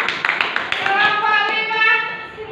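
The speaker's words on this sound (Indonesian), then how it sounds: "Boleh tepuk tangan." Students in a junior high school classroom clap their hands in a short burst of scattered claps, followed by a voice speaking over the fading sound.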